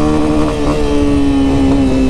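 A Honda CRF250F dirt bike engine revs hard while riding, holding a loud, steady, buzzing drone that sits close and continuous throughout.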